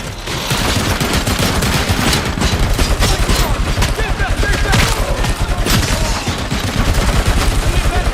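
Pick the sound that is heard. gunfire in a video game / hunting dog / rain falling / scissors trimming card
gunfire in a video game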